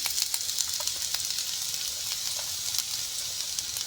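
Onions frying in a little oil for a bread kothu dish give off a faint, steady sizzle and hiss in a close pan, with no voices.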